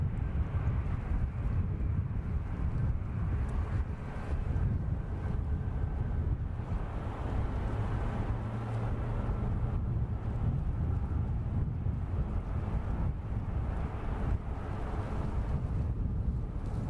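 An Air France airliner at San Francisco Airport rumbles from a distance, a low, steady engine roar mixed with wind buffeting the microphone.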